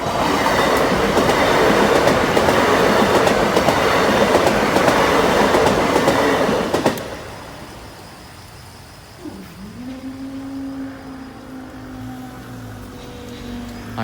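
A loud train hauled by a Class 37 or Class 50 diesel locomotive rumbles and clatters past a level crossing for several seconds, then cuts away to quieter ambience with a low tonal horn-like sound.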